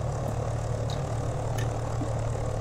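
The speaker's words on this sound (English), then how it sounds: "No worries. The engine runs good." A seaplane's propeller engine idles just after starting, holding a loud, steady low drone with a few faint higher clicks over it.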